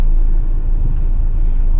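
A 2018 Volvo XC40, a compact SUV with an electric shifter, drives on Volvo's test track, giving a steady low cabin rumble of road and engine noise with no talking.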